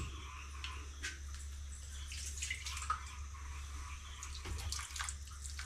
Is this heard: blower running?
no